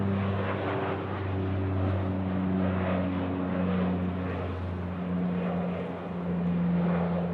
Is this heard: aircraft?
yes